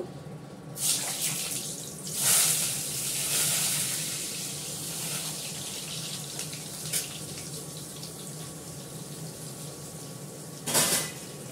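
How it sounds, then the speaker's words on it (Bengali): Pumpkin frying in hot mustard oil: a continuous, fairly loud sizzling hiss that swells in a few brief, brighter bursts, with no talking. "দেখো তেলটা গরম হয়ে গেছে, সর্ষের তেল দিয়েছি, কুমড়োটা আমি একটু হালকা করে ভেজে নেব"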